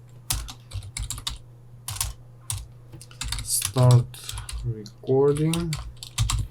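Code is typed on a computer keyboard for an Android Kotlin voice-recorder app: irregular bursts of close, crisp keystrokes with short pauses, while a voice talks over part of it.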